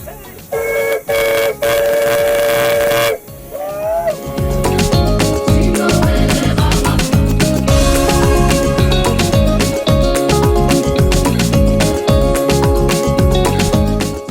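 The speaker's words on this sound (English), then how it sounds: "So I might possibly be living every man's boyhood dream, driving a steam train." A steam train near Victoria Falls blasts its loud whistle in several long tones, then chugs rhythmically with heavy mechanical clanking and hissing.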